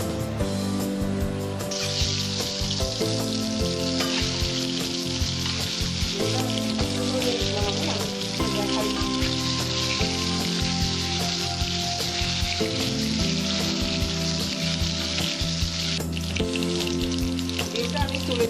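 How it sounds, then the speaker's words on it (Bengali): Eggs fry in a hot pan for a Bengali-style egg masala curry, a loud continuous sizzle and crackle with steady spitting pops running throughout. "ডিমটা আমি হালকা করে ভাজছি"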